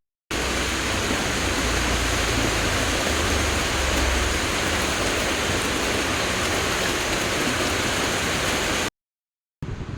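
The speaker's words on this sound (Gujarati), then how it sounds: "ફરીથી વરસાદ અતિશય જોરમાં વરસે છે" Heavy rain pours down hard and continuously, a dense, even roar of falling water close by that runs for most of the stretch before cutting off abruptly.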